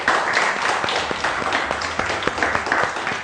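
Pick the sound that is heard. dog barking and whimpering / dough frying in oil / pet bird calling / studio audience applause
studio audience applause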